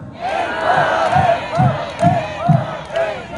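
A crowd at a Korean beef festival shouts in rhythmic unison for an encore, with loud repeated chants rising and falling about every half second.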